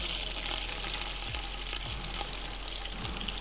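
Onions frying in hot oil with crackled curry leaves for Ramadan nombu kanji, a soft, steady sizzle with faint low thumps, no talking.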